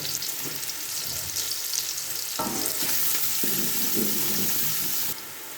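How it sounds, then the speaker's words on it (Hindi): Steady sizzling and frying, a dense crackling hiss of onions browning in hot ghee, continuous and close, with a few clinks and stirring noises. "थोड़ा सा घी गरम होने के बाद हम इसमें प्याज डालेंगे और हल्का सा ब्राउन करेंगे प्याज को।"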